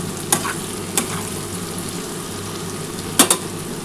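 Onion, potato and spices stirred while frying in a pan for a spicy bhola fish curry: a steady sizzle broken by three sharp spatula scrapes against the pan, close and clear.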